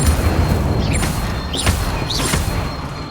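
Incendio fire spell in Hogwarts Legacy, a dense continuous roaring blast of flame with booming low rumble and a few whooshing magical swirls on top, loud and close throughout.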